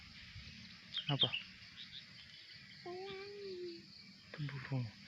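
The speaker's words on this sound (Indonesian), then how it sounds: "Itu burung." A bird calls outdoors on a morning walk, giving a drawn-out whistled note between shorter chirps, moderately close and faint, with people talking quietly around it.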